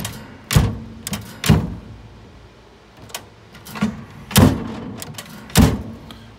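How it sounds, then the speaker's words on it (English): Door of an Amana Radarange RR-10 microwave oven opening and closing repeatedly, producing several sharp mechanical clunks and latch clicks spaced irregularly, close and fairly loud with no talking. "so when you open the door, it comes right up"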